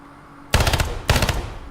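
MP7 submachine gun firing in the tactical shooter game Ground Branch, two short rapid bursts about half a second apart, loud and close, with no speech over them.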